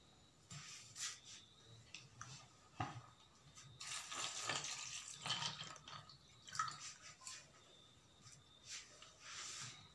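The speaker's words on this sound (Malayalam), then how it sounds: "എന്നിട്ട് അങ്ങനത്തെ ഉള്ള ആണി എടുത്തിട്ട് നമുക്ക് വെള്ളം ഒഴിച്ച് വെക്കാം" Water is poured over rusty iron nails in a container, giving quiet irregular splashes and trickles with soft drips, close and faint, with no talk.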